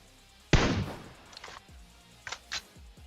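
Gunfire in the mobile battle royale game PUBG Mobile: one sharp loud shot followed by a few quieter, more distant bangs in short bursts, with no talk.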